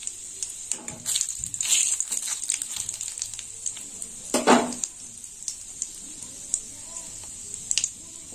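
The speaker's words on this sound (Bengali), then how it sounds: "ফোড়নটা একটু ভাজা হোক।" Panch phoron, bay leaf and dried chilli crackle and pop in hot oil, with quick spitting bursts, one louder flare midway and light utensil clinks, all close by.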